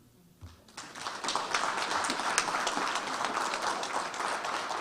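Audience applause at an evening health and wellness fair event, starting after a brief quiet moment and then swelling into steady, dense clapping that fills the room for several seconds.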